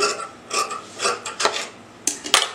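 Sharp scissors snip through sari blouse fabric to even up the border and sleeve edges, a series of short crisp rasping cuts in bursts, close and fairly clear with no talking.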